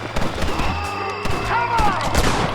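Gunfire from the zombie-themed video game Red Dead Redemption Undead Nightmare: a dense cluster of sharp shots and booms over a busy in-game soundscape, with a faint voice underneath.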